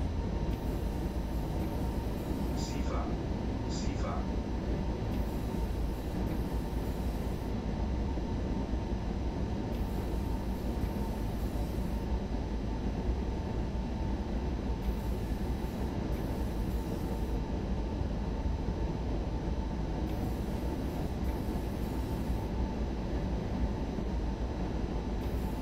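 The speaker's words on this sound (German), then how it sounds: "Ich würde sagen, dann lassen wir den Zug gleich mal vorbeifahren." A train in Train Sim World 3 rumbles steadily and loudly past for the whole stretch, a dense continuous roar of wheels on rails with a couple of brief high squeals early on.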